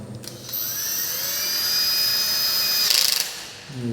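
A power drill runs a screw tight in an electrical box, a steady high whine rising in pitch that ends in a brief ratcheting chatter as the screw seats, loud and close.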